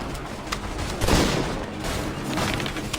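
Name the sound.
musket gunfire volley in video game Assassin's Creed 3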